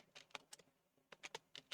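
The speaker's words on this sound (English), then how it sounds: "How I hate typing Star Ocean." Computer keyboard typing in bursts of quick, crisp keystrokes, with a short pause between two clusters of taps, fairly quiet and close with no voices.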